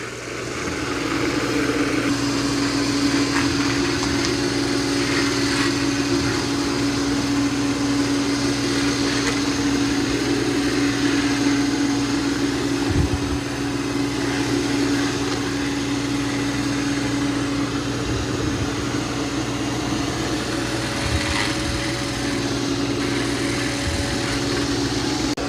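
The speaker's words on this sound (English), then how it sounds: "Smart Scrub is going to use quite a bit of the wetness on the mop pads because it's going back and forth" A Roomba 505 robot vacuum mops with Smart Scrub, moving back and forth, a steady close motor whine and hum with brief bumps and rattles, going on alone with no talk.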